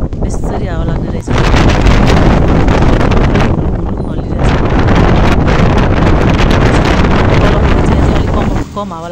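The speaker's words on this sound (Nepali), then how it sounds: "गाडीबाट चढ्ने बित्तिकै मजाले हावा एकदमै बेसरी हावा लाग्ने रहेछ।" Strong wind buffets a rider in a moving vehicle on a mountain road in Nepal's Mustang region, loud roaring gusts battering the microphone almost continuously, with brief drops and faint voices underneath.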